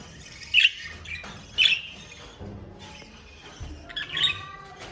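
Pet birds chirp in a small farm coop during winter, brief bright calls bursting out three times at close range over a low, quiet background hum.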